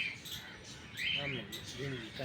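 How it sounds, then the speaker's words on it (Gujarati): Birds chirp and tweet in short bursts at Kankaria zoo in Ahmedabad, mixed with outdoor crowd noise while a person talks over them. "કેટલા બધા પક્ષી છે."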